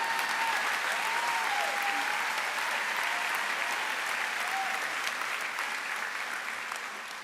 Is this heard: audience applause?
yes